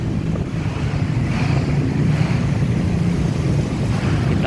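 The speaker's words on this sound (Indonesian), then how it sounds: "Kita lihat airnya sangat deras." Floodwater of the Ciliwung river in Jakarta rushing fast and high with swirling eddies, a steady loud roar of churning water with constant wind-like rumble and no voices.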